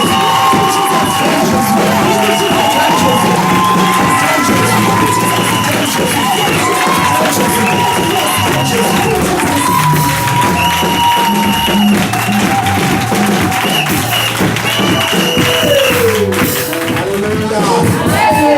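A church congregation cheers and shouts in acclamation of Jesus, a loud, sustained crowd roar filling the whole stretch with layered voices and music-like tones underneath.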